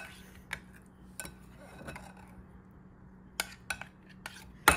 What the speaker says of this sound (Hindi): अब ये देखिए इसको बहुत अच्छे से मिक्स कर देंगे।